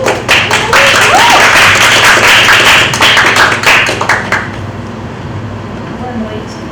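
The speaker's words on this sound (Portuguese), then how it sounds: "Então vamos aplaudir agora Mariana Mello." An audience claps for a speaker being introduced on stage, loud close hand claps that thin out and fade after about four seconds into quiet room tone.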